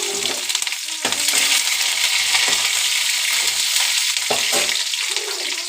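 Garlic and green chili dropped into very hot oil, sizzling loudly and steadily from up close, with sharper crackling bursts as the pan is stirred.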